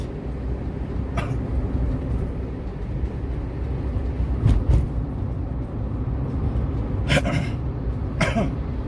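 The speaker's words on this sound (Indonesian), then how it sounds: "Sedikit batuk." A person coughs a few times, short sharp bursts spread over several seconds, heard close against a steady low rumble of travel noise with no talking.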